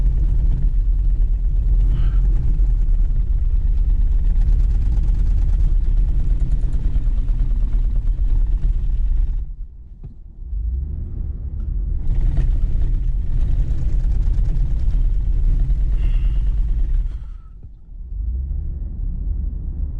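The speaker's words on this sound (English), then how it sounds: "You can see it's just spinning the back wheels." A two-wheel-drive car sits stuck in loose desert sand in Arizona, its back wheels spinning with a loud, steady engine roar and low rumble that briefly drops out twice before surging again.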